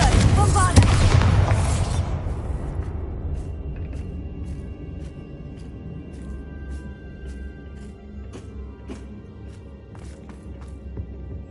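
Confringo and Bombarda spell blasts in Hogwarts Legacy, a loud booming explosion at the start that rumbles and decays over a couple of seconds, followed by quieter game ambience with faint clicks.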